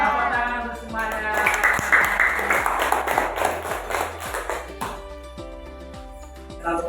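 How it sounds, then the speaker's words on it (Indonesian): Schoolchildren in a classroom clap together in a rhythmic, steady beat, a dense burst of applause that fades toward the end, with a few voices mixed in. "Jadi, anak-anak, tepuk tangan untuk semuanya."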